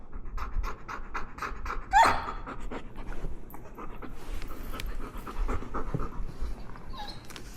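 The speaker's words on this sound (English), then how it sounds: "Now you start to hear the yawning, stress yawn, stress panting." A dog pants rapidly and steadily from stress during aggression-behavior training, the rhythmic breaths close and continuous throughout, with a brief squeaky whine partway through.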